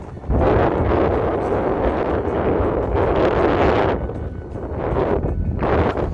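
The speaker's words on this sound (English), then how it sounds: "It's gonna be windy" Steady strong wind buffeting outdoors in the desert of Joshua Tree National Park, a loud continuous rushing roar that surges and eases slightly, with no voices.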